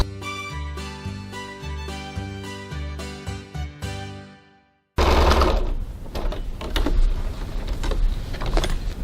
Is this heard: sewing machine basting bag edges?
yes